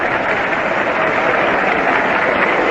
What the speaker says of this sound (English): Richly deserved the applause that Gerba gets now as he walks up to the plate.